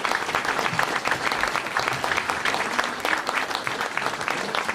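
A crowd at a town hall New Year's greetings ceremony applauds steadily, dense clapping filling the room evenly from start to finish with no voices over it.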